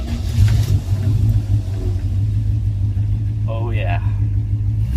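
A 1961 Plymouth Fury's engine rumbles steadily while driving, a low, continuous throaty drone close by, with someone speaking briefly over it.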